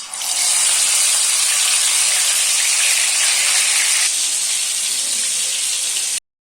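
Fish hits hot mustard oil with a loud, close, continuous sizzling hiss that holds steady for several seconds before stopping abruptly, with no talking over it.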